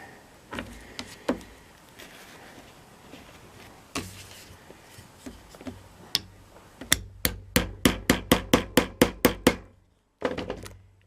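Hammer strikes on moccasin leather set over a round anvil, starting as scattered, irregular knocks, then a quick, loud run of about a dozen evenly spaced blows, and finishing with a couple more close taps after a short pause.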